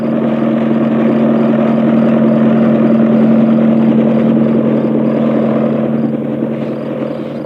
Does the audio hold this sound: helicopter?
yes